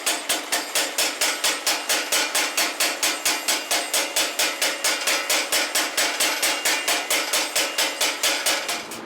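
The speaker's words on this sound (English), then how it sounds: "So we're going to forge weld that together to get our starting stock and go from there." Steel pieces for blade stock are hammered to forge weld them, a loud, close, perfectly even run of sharp metallic blows at about four strikes per second, with no talking.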